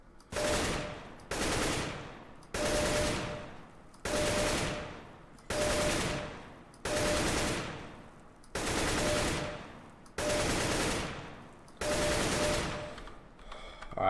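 AK rifle fire in the game CS:GO, nine evenly spaced bursts of rapid automatic shots, each lasting about a second with short pauses between, loud and crisp.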